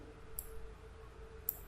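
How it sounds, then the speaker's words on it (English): Two sharp, faint clicks of a computer mouse, about a second apart, over a low steady hum with no talking. "I just done double clicking on that"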